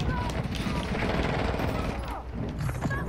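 Gunfire in Call of Duty Modern Warfare II on the Shipment map: a dense, continuous fusillade of rapid shots and booms, loud and relentless for the whole stretch.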